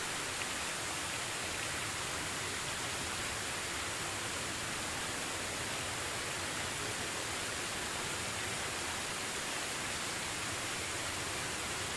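Steady, soft rain hisses evenly and without pause in the medieval survival game Medieval Dynasty, with no voices over it.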